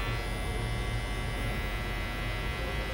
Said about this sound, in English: Use that clipper over comb.